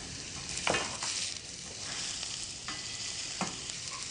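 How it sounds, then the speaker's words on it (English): Onions frying in olive oil with a soft, steady sizzle, broken by a few scraping stirs of a utensil against the pan, no talking. "You want to hear a little bit of a sizzle."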